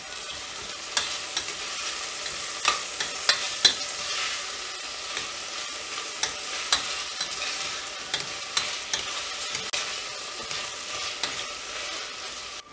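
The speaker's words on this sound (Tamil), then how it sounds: "வெங்காயம்லாம் நல்லா வதங்கிட்ட உடனே நம்ம தக்காளியை ஆட் பண்ணிவிட்டு நல்லா ஃப்ரை பண்ணி" Onions and tomatoes fry in a pan for a Ramadan nombu kanji, with a steady hissing sizzle and repeated scraping clicks of a spoon stirring through the mix, close and continuous with no voices.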